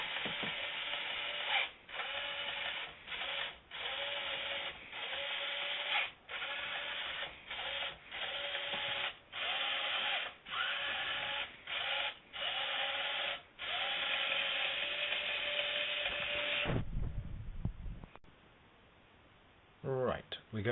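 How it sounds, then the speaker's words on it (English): Pro-Bot robot car driving forward along a floor, giving a steady whirring mechanical drone from its motor and gears, broken by regular short pauses and clicks between moves, before a louder scraping clatter near the end. "So far, the car moves forward 80 centimeters."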